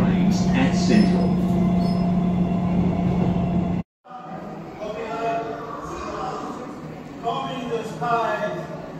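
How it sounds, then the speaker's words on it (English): Rail carriage noise with a steady hum runs under an announcement on a Brisbane Cannon Hill train, then after a brief cut the train rumbles on while a voice speaks over it. "This is a Cannon Hill train, stopping all stations"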